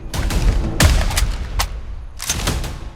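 Bursts of AK-101 rifle fire from a realistic shooter video game, a few short volleys of sharp cracks with brief pauses between them, close and loud.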